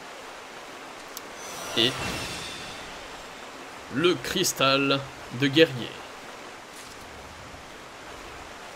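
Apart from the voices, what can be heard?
waterfall rushing in Final Fantasy XIV video game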